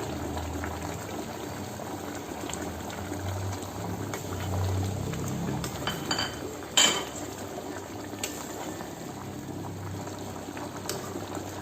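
Green chicken simmering under a lid over a medium flame, a soft steady bubbling with faint rattles and a brief metallic clink of the pot midway, no one speaking.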